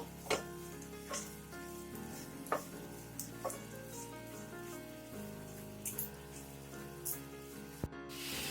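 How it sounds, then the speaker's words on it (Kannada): Spice masala for Pathrode fries quietly in a pan with a soft continuous sizzle, broken by occasional stirring scrapes and clinks. "ನಾನಿಲ್ಲಿ ಫಸ್ಟೇ ಫ್ರೈ ಮಾಡ್ಕೋತಾ ಇದ್ದೀನಿ"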